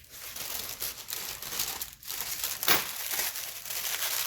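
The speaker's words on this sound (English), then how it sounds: "And I tend to cut my bags just on a" A plastic piping bag for royal icing crinkles and rustles as it is handled and cut at an angle, a steady close crackling with brief dips, heard alone with no talking.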